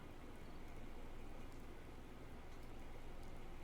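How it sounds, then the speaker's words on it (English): Steady, dense rain hiss in Fallout 4, an even wash of falling drops with no break or change across the stretch, soft and enveloping. "To taste the rain, to touch the rain, to smell the rain, to hear the rain, to see the rain."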